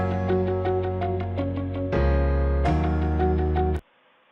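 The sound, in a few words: inspirational background music added to an e-learning scenario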